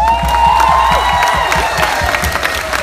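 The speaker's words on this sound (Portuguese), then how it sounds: "As nossas palmas e o nosso carinho para Mário Dias." Audience applause for Mário Dias at a concert in the USA: a steady, dense wash of clapping and crowd noise, loud throughout, with sustained tonal voice or instrument sounds running over it.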